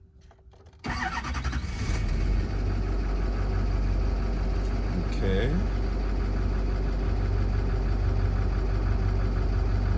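A GM Duramax diesel engine being rebuilt cranks and fires up, then settles into a steady, loud, clattering idle close by, with a brief spoken word near the start.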